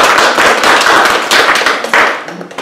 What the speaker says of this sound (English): So please give a nice round of applause.